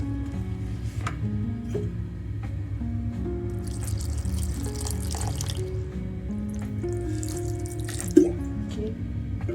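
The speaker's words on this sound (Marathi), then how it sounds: "यामध्ये अजून थोडं पाणी घालते." Water trickles and drips into pancake batter in a bowl, a steady close pouring sound with a single sharp clink near the end.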